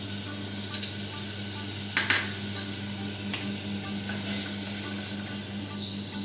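Steady sizzling from a pan of butter, a constant crackling hiss with a few soft clinks and scrapes of a utensil, no voices.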